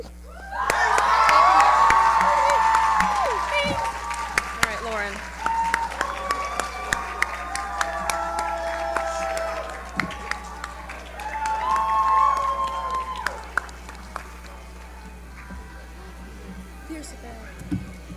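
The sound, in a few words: audience applauding and cheering in auditorium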